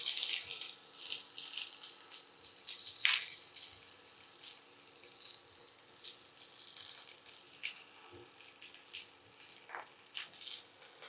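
Mustard seeds, cumin, onions and chili fry in a pan with a soft, continuous sizzle and occasional small pops and crackles, close but fairly quiet, with no talking.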